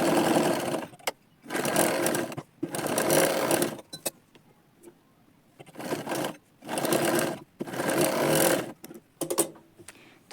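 A sewing machine runs double stitching along half-inch shoulder seams of a katori blouse, several loud rattling bursts of stitching separated by short quiet pauses.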